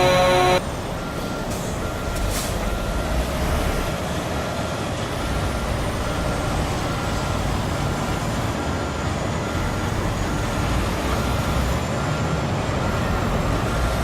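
A truck in American Truck Simulator backs a log trailer toward a hill at a logging site. Its engine drones low and steady and is loud and close. A brief beep opens the clip, and no one talks.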